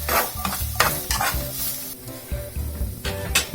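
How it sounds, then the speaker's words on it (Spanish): Shredded chorizo fries in a skillet for bean-and-chorizo cooking, a steady sizzle broken by repeated scraping stirs of a utensil against the pan, close and moderately loud with no talking. "se lo vamos a agregar a nuestro sartén para que se dore"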